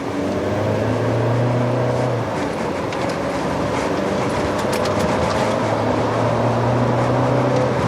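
A Chevrolet Trax 1.4 gasoline turbo small SUV on the move, heard from inside as a steady, continuous engine drone blended with road and wind noise, with low humming tones rising and falling slightly, and no voices.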